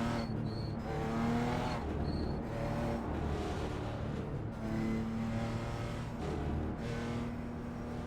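A BMW M4 GT4 race car laps Lime Rock in iRacing, its engine droning continuously with rising and falling revs and gear changes, loud and close, with occasional faint tire squeal.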